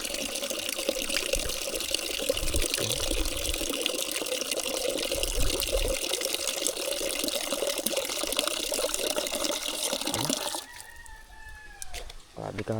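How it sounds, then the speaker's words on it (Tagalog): Strong, steady rush of mountain water in a rural province, a loud continuous flow that runs for about ten seconds before cutting to a quieter scene with a rooster crowing. "sobrang lakas ng tubig nito."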